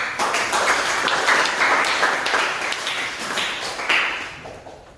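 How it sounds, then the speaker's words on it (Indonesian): A small group of teachers-in-training clapping in a classroom session, the claps fairly close and somewhat rhythmic, holding steady before thinning out toward the end. "beri tepuk tangan untuk"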